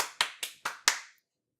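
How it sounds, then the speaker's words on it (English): Five sharp hand claps ring out close and clear, evenly spaced, alone on a podcast recording before fading into silence. "That was me clapping"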